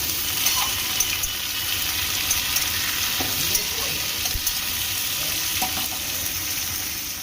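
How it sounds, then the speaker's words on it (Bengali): Potatoes, carrots and other vegetables fry in a pan with a loud, continuous sizzle up close, broken by faint stirring scrapes, and nobody talks. "আলু আর গাজর ভালো করে ভেজে নেব।"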